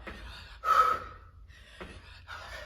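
Heavy breathing during a home dumbbell interval workout: sharp audible inhales and exhales in an uneven rhythm, close to the microphone, with a strong gasping breath near the start and softer breaths after.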